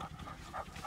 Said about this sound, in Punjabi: ਕੁੱਤੇ ਉਸ ਹਿਸਾਬ ਨਾਲ ਛੱਡ ਰਹੇ ਹਾਂ